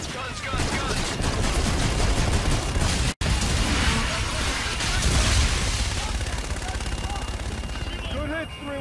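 Sustained heavy automatic cannon fire from an aircraft strafing run in Call of Duty: Infinite Warfare, a dense continuous roar of rapid shots with booming impacts, loud and close throughout.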